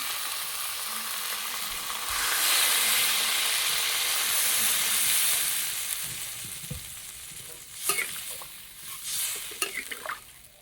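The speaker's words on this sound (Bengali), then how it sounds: "এবার দেবো জল" Water hits egg and potato curry cooked with burnt spices in a hot pan, raising a steady broadband sizzle that swells and holds, then eases. Sharper clinks and stirring clatter follow near the end.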